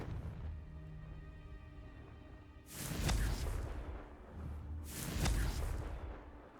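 A Confringo fire spell is cast in Hogwarts Legacy: two loud fiery whooshing bursts, each a broad roaring blast that trails off, the second following about two seconds after the first over a low ambient rumble.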